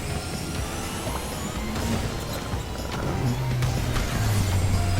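A kart's turbo boost in Crash Team Racing Nitro-Fueled: a steady engine drone swells louder near the end as the boost kicks in, with a rising whine layered over the racing noise.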